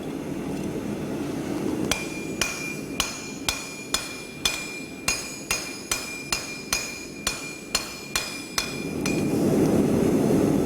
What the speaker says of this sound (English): I'm going to put it in this monkey tool and hammer the end to square up the shoulder